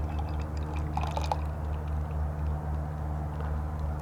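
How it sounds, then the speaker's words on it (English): Wheat beer poured into a glass after a swirl of the bottle to lift sediment, a steady liquid stream with soft fizzing over a constant low hum, no talk. "All right, we'll get the pour."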